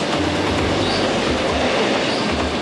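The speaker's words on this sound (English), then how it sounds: "Hope that wasn't our train." A train rushes past close by in a continuous loud rumbling roar with rhythmic wheel clatter throughout.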